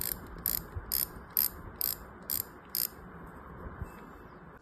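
Chinese-made Gold Strike spinning fishing reel drag ratchet: a run of about seven quick, crisp clicks, close and fairly quiet, over a steady background hiss with no talk.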